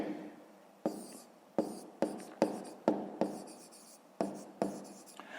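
Pen strokes scratch across paper while a maths solution is written down, a series of short, quiet bursts of scribbling with brief pauses between them.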